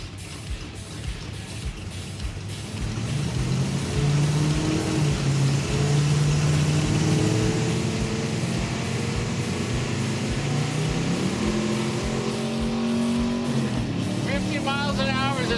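A hot rod engine roars and climbs in pitch as the car accelerates across El Mirage dry lake, pulling into third gear with a shift partway through, a loud, steady mechanical drone over wind rush.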